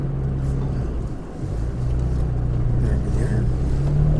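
Toyota Tacoma TRD Pro pickup (2017) driving slowly off-road in four-wheel drive, a steady low engine drone with a brief dip in the middle, heard from inside the cab.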